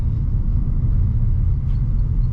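A car engine eases off in city traffic before a shift into second gear. A steady, close low rumble holds throughout with no voices.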